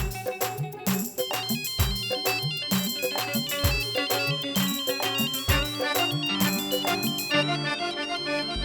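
Mobile phone ringtone playing a melodic electronic tune with steady repeating notes and beats, loud and continuous, with no talking over it.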